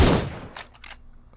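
A single sharp Winchester 94 rifle shot in PUBG Mobile cracks loudly at the start, followed by its fading tail and a few faint clicks.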